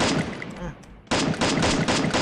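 Rapid automatic gunfire in Free Fire, a loud sustained burst of shots, a short pause, then another close, dense burst of fire.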